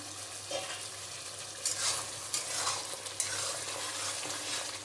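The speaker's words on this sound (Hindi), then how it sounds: "इसके साथ में मिक्स करके अच्छे से इसकी भुनाई करेंगे 2-3 मिनट के लिए।" Onion, tomato, ginger and garlic masala paste fries and sizzles in a pan for a Bowal fish curry, a steady close hiss broken by several bursts of stirring scrapes, with no talk.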